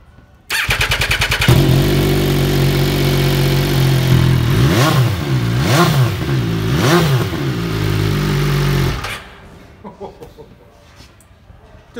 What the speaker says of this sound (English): So let me give it a quick start up because it has got, what type of exhaust is this, Mr. Jordan?